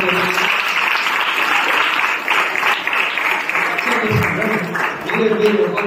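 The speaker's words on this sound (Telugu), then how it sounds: "క్లాప్స్ కొట్టండి అందరూ" An audience at a Telugu university stage event claps continuously in a dense, loud wash of hands, with some voices mixed in beneath.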